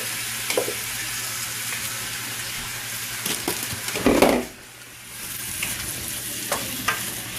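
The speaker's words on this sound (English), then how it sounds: "we're gonna go ahead and add the shrimp to that, and we'll let that cook for about 2 minutes" Shrimp frying in a hot pan, a steady close sizzle that keeps going throughout, with a brief burst of stirring and clatter midway before the sizzling settles back.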